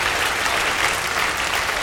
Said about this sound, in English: If we could give a really great warm hand of applause to the Darth Vader himself.